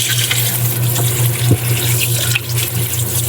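Tap water runs steadily while chicken intestines are washed, making a continuous close splashing hiss into a sink. Small clinks and thumps of handling sound briefly over the flow.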